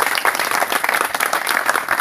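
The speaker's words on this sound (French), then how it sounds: "Applaudissons encore pour le Seigneur" A church congregation applauds steadily, a dense, even wash of clapping filling the space for the whole stretch at a consistent moderate loudness.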